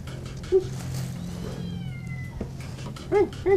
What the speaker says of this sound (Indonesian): Tim kita mencoba menyelamatkan beberapa kucing yang terjebak di atap rumah seorang warga